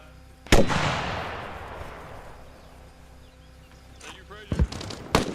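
Rocket fire in the military video game Arma Reforger: a sharp loud blast with a long fading rumble, then several quicker distant cracks and thuds toward the end.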